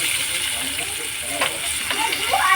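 Kashmiri red chili and turmeric frying in oil for a spicy Maharashtrian arbi (taro root) curry, giving a steady close sizzle and hiss with a few stirring scrapes.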